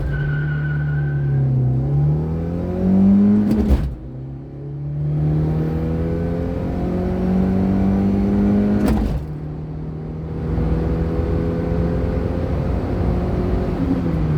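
A 2003 Renault Twingo 1.2 16V engine revving up through the gears toward 100 km/h, rising whine broken by two gear changes, loud and steady from inside the car.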